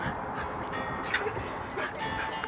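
A Staffordshire bull terrier gives a few short, moderate yips and whimpering barks in an indoor setting, with background noise underneath.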